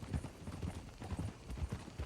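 Horse hooves clip-clop in the video game Red Dead Redemption 2, a steady walking rhythm of soft, muffled knocks repeating about twice a second, fairly quiet and with no other sound on top.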